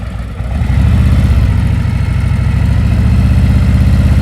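A motorcycle engine idles loud and steady at close range during slow-speed riding practice in Maryland, a low continuous rumble that swells slightly after the first half second and holds without pause.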